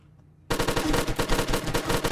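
Loud, rapid automatic gunfire erupts after a moment of quiet in a co-op Steam video game, continuing as a dense sustained burst.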